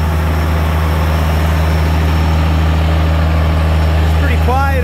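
An International Loadstar DT466 single axle dump truck idles steadily nearby, a loud, even low diesel rumble that holds throughout with no breaks.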